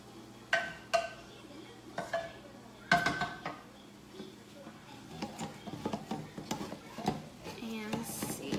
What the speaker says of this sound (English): I'm gonna stir up our veggies real nice